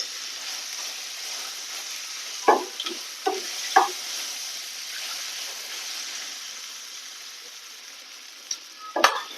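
Ground spice paste sizzles and fries in a hot pan for a roll filling, with a spoon scraping and stirring in several short bursts over a steady low hiss.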